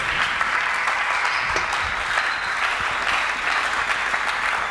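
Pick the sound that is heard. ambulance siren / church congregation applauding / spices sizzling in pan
church congregation applauding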